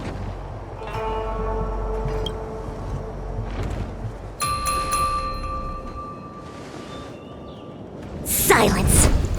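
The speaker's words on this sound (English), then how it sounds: "We could try ringing the harmonic chime." A harmonic chime from Honkai: Star Rail rings with sustained bell-like tones, first in a layered cluster and then a single clear ringing note, over game ambience, with a brief louder burst near the end.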